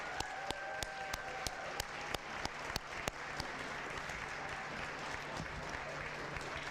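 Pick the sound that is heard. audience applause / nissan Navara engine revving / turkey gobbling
audience applause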